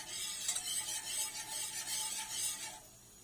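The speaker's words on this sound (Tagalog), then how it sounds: "We cook the flour in the oil" Flour cooks in oil while a utensil stirs and scrapes the pan in quick repeated strokes, with a soft sizzle underneath, fairly quiet and close, no talking.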